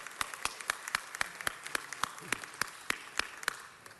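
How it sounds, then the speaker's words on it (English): At a city council meeting, scattered applause rings out as sharp, separate claps in a slow, uneven rhythm, fairly faint and thinning toward the end. "Give them all a round of applause."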